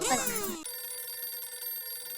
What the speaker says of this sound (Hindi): ये उनका ही फोन है। फोन आ गया।